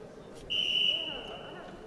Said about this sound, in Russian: Свисток, начинаем.